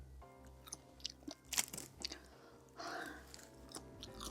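Close, quiet crunching and chewing of 100% gopchang gim seaweed, irregular bites and crackles over a low steady hum, without talking.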